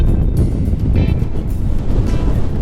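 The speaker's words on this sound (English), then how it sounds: "I got the kicker running now too" Small kicker outboard motor on a fishing boat running on windy Lake Sakakawea, a steady low drone buried under heavy wind buffeting and wave wash, loud and continuous with no talking.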